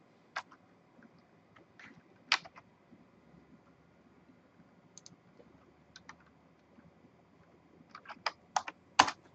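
Scattered keystrokes on a computer keyboard as a command is typed, sparse clicks and short bursts with a few louder taps, close and isolated in a quiet room.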